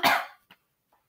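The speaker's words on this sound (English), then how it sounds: "I did not mean to come back and just cough like that." A single sharp cough bursts out loudly, then a faint short throat sound and a quieter trailing noise follow in an otherwise quiet indoor room.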